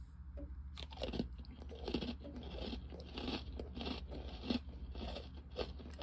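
Close, quiet crunching and chewing of a Sour Patch Kids Oreo cookie, a few crisp bites followed by steady rhythmic munching with no talking.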